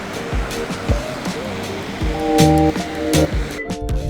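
A waterfall in the Bighorn Mountains rushes beneath intermittent tonal sounds and short bursts, the water's wash rising and falling over a few seconds.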